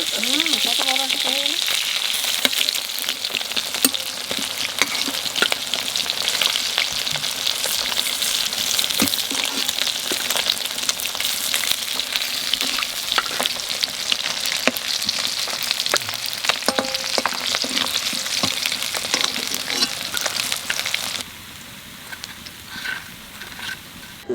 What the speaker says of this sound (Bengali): মাছ তো ভাজা হয়ে গেল